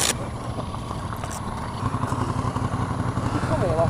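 Motorcycles riding in on the Isle of Man, a steady engine drone that swells and grows rougher as the bikes draw nearer, fairly loud, with a voice speaking over it.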